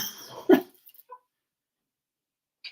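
A dog gives a single short bark indoors, close and fairly loud, after a moment of faint background sound, then the room falls nearly silent apart from a few small noises.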